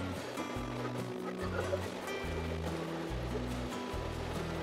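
A downpour of monsoon rain sweeps a ghat road in the Konkan region near Dajipur, Radhanagari and Kolhapur, a loud, unbroken rushing wash over a deep, pulsing rumble.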